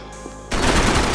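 Automatic gunfire bursts out abruptly in the action video game Max Payne 3, a loud, dense rattle of rapid shots following a brief quieter moment.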